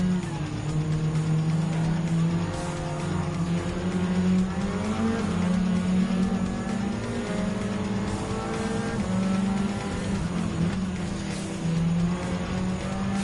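In a Gran Turismo 7 race, a front-wheel-drive Group 4 car battles an S15 touring car. A loud, steady engine drone rises and falls in pitch through gear changes, with no break throughout.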